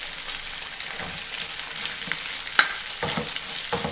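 Green chilli, garlic and ginger fry in oil for a fish pickle, a continuous near sizzle broken by several sharp scrapes and clinks of stirring toward the end; no talking.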